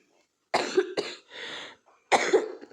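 A woman with a sore throat coughs at home in the kitchen: two close, harsh bursts, a raspy breath, then another hoarse cough, loud and near against silence.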